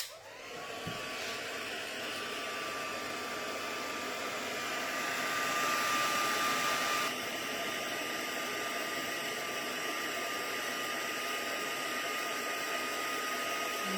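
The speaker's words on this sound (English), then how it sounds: "So let's grab my heat tool." A craft heat tool blows hot air with a steady, loud whooshing roar and a faint whine that runs unbroken for many seconds, swelling slightly midway before settling, close by.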